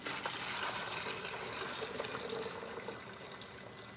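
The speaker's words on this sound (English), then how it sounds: "So I'm going to pour the tea." Hot tea pours steadily into a 3-quart pot, a quiet continuous trickle and splash of liquid that fills the short stretch without a break.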